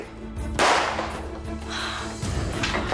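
A single sharp crack bursts out, loud and close, followed by a lingering rumble and a second softer impact.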